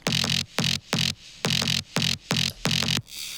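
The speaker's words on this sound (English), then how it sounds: "it's just a very aggressive like fart bass kinda." A gritty, aggressive synth bass plays short repeated notes in a steady rhythm, about seven punchy bursts separated by brief gaps, loud and up front.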